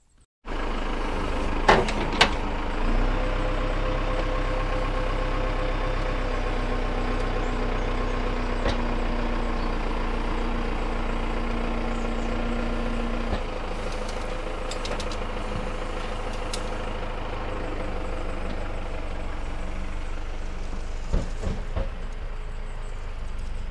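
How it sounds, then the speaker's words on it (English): A digger excavator's diesel engine runs steadily in a garden, a continuous low rumble with a faint hum on top and occasional knocks and clanks, close and unbroken for the whole stretch. "We have a professional digger driver for that."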